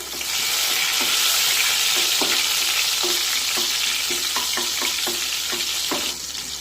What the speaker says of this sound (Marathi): 8 ते 10 पाकळ्या ठेचलेला लसूण टाकूया। परतून घेऊया।